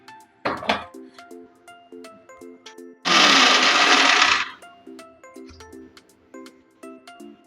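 A blender whirs loudly for about a second and a half, blending homemade mayonnaise with a few cut garlic cloves, then stops; soft kitchen knocks and clinks come before and after.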